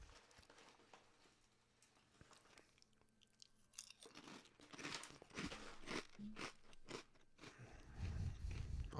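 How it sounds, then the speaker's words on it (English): Food crunched and chewed near a microphone, a series of irregular close crisp bites and munching that grow louder toward the end, with light crinkling and no talking. "I'll try to crunch away from the microphone."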